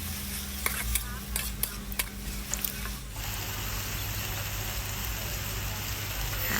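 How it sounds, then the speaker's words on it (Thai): Rice noodles are stir-fried in a pan: scraping spatula strokes over sizzling oil at first, then a continuous loud hiss of frying to the end. "ตอนนี้ผัดเส้น"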